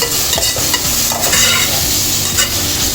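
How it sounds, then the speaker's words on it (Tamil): Tomatoes stirred and sautéed in a pan while making crab pepper masala, with a steady close sizzle and several spoon scrapes and clinks against the pan, no voices. "சேர்த்து இந்த தக்காளியை நல்லா இதில் மிக்ஸ் பண்ணி வைக்கணும்."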